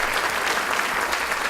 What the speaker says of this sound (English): A nice big round of applause up there for Bob.